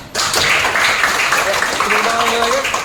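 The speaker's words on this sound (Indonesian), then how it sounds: "tepuk tangan dulu untuk Lenjun" Classroom applause for a student named Lenjun after a presentation, a dense, steady patter of many hands clapping that starts abruptly and carries on throughout, with voices talking over it toward the end.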